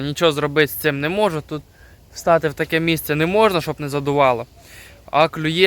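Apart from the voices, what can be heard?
No everyday noises stand out.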